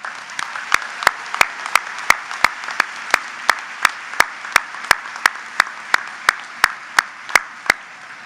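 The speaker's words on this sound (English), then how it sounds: "Let's have a round of applause for them, please." A commencement audience at Cleveland State applauds the event staff, a crowd's clapping overlaid by one nearby pair of hands striking sharp, evenly spaced claps about three times a second, steady and loud throughout.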